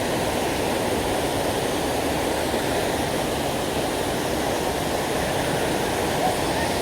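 Water pours and rushes down a forest waterfall stream near Bukit Bertenggek, Kuala Kubu Bharu, Malaysia, as a loud, close, unbroken roar with no clear voices.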